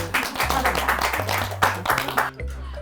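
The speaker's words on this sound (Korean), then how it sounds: "야호! 박수!" A group of grandmothers clap together in quick, lively rhythm while making a giant chocolate cake in a cauldron, with a steady musical tone running underneath.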